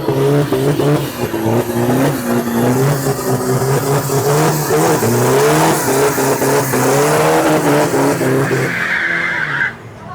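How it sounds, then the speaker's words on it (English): A Toyota mini truck drag racing a turbo diesel van at a Thai car meet, engines roaring loudly and rising in pitch with tire squeal, then the noise cuts off sharply near the end. "When's the last time you've seen a Toyota mini truck drag race a turbo diesel van?"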